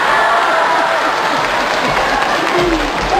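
An audience applauds at a Yanbian TV comedy sketch, dense, loud, continuous clapping from a large crowd filling the whole stretch, with a voice briefly heard over it.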